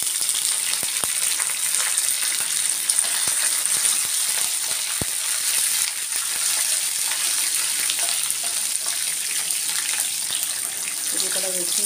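Green chilies and curry leaves frying in hot oil in a pan for mint pulihora give a steady, close, crackling sizzle that runs unbroken throughout, with a few sharp pops and no voices.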